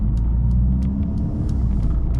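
A Mercedes-AMG A45 S driving on back roads in its normal setting, giving a steady low engine rumble with faint road noise and small clicks, heard alone.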